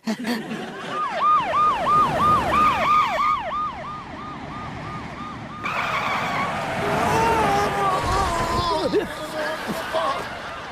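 Ambulance siren wailing in a rapid rising-and-falling pattern, loud and close, then changing to a different warble partway through, with a vehicle engine underneath and people talking over it.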